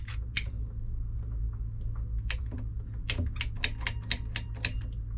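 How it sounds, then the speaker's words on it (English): A plastic water pipe being cut during a hose spigot installation, heard as a run of sharp, close snipping or clicking cuts, a few scattered then a quicker rhythmic series, over a steady low hum. "we'll cut the pipe here."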